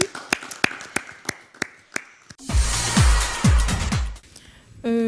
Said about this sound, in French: Applaudissez pour vous-même, chers candidats.